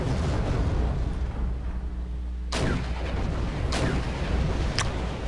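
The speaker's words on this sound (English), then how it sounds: "The T-80s open fire." T-80 tanks in the Wargame multiplayer strategy game open fire, with heavy booming cannon shots landing at irregular intervals over a steady low rumble of battle.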